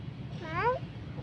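A person imitates a cat's meow with a single drawn-out, rising-and-falling vocal meow at moderate loudness over faint background noise, no other talk heard.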